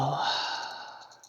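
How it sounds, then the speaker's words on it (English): One long, breathy exhale during a yoga practice, starting strong and close, then fading gradually over a second and a half. "Long exhale."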